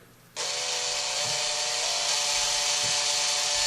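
A drill fitted with a larger bit countersinks holes in a custom firesteel, run slowly, starting abruptly and holding a steady, close, loud whirring grind with faint low bumps as the bit bites.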